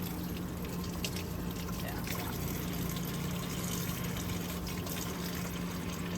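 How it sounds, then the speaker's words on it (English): Steady running warm water pours and splashes into a bucket, a continuous rushing fill with a low hum underneath. "the first thing I'm going to do is fill my bucket with water"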